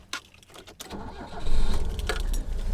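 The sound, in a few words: 1974 BMW 2002tii engine starting up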